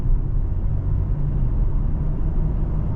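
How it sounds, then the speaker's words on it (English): A Toyota Tacoma pickup with a manual transmission runs its engine as the clutch comes out and the gas is pressed, giving a steady low, close motor rumble with no talking. "clutch is all the way out, and I press the gas again."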